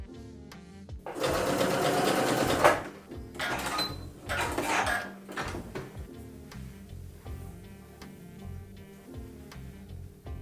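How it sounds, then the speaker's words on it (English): A sewing machine stitches dress pieces together in loud, fast bursts of needle clatter separated by short pauses, followed by quieter ticking mechanical sounds. "I'll sew the top front to the lower front"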